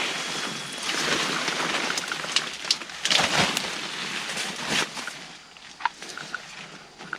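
Rain falling in a forest at night, a steady broadband hiss with scattered sharper drops and rustles, fairly close and continuous without any voices.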